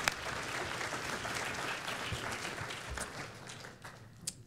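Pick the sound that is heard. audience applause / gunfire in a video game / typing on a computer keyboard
audience applause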